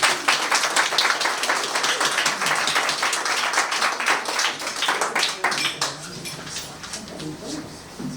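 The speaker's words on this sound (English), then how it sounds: "Let's give them a round of applause." Audience at an evening talk and exhibition breaks into applause, a dense steady patter of many hands clapping that fades toward the end, with some talk underneath.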